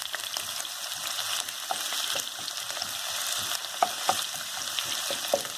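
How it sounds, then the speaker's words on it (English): Chopped ingredients for Hainanese chicken rice sizzle in a pan as they are stirred, a steady frying hiss broken by light scraping taps of the utensil. "And you stir it."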